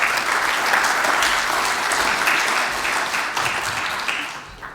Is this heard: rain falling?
no